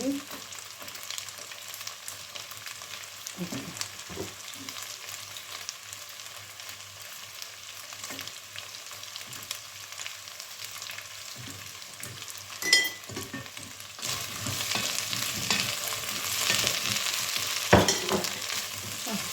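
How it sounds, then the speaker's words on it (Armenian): Vegetables sizzle quietly in a pan, with occasional stirring scrapes and clinks. The frying grows louder and crisper toward the end. "կարտոֆիլի հետ թող մի քիչ տապակվի։"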